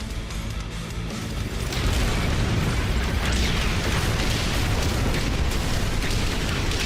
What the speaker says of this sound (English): They fucking blew up the Atlas!